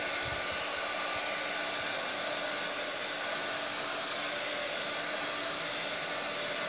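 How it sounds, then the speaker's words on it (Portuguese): A hair dryer running continuously, a steady, loud whooshing blow with a constant motor whine, close and unchanging throughout, with no voices. "a gente tava falando sobre o secador"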